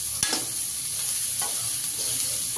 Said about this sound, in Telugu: మంచిగా ఫ్రై అయ్యేదాకా కలుపుకుంటుండాలి.